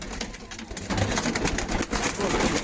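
Pigeons in a coop flutter and beat their wings in a busy, close rustle, with soft cooing mixed in and people talking nearby.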